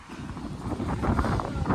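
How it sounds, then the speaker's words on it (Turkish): Gusty wind buffets the microphone outside the PSV stadium in Eindhoven, with low rumbling bursts rising and falling over a couple of seconds. "Aynen bugün çok rüzgar var"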